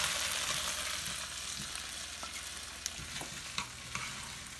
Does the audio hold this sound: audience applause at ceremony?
no